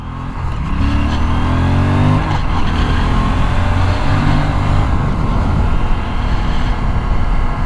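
An Aprilia RS 457 motorcycle engine pulls hard and loud, rising in pitch through the gears with a brief shift dip, over heavy wind rush from on board.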